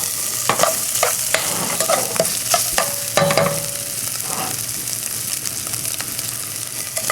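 Smoked sausage frying in a pan for a mussel dish, a loud constant sizzle broken by scrapes and clicks of stirring, close up, with no talking.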